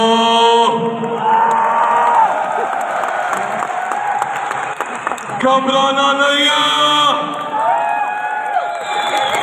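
A large crowd claps and cheers at the Daraz summit 2023 in Lahore, steady dense applause with shouts rising and falling throughout, while a voice speaks over the noise.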